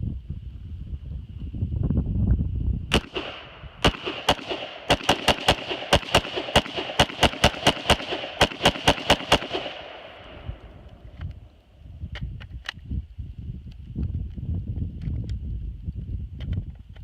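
AR-15 rifle firing a rapid string of sharp, loud rounds from a Hexmag magazine outdoors, about twenty cracks in quick uneven succession, then stopping, with wind noise before and after.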